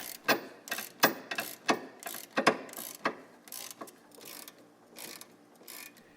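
A ratchet with a 10mm socket turns the sway bar link stud on a Chrysler 300. It gives a steady series of sharp, close clicks, about two per second, that gradually soften and thin out toward the end.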